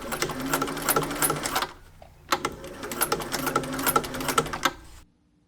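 Sewing machine stitching a table mat into a hat, running in two close, steady bursts of rapid needle clatter separated by a brief pause, then stopping.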